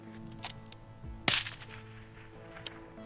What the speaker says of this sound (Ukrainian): пострел снайпера это был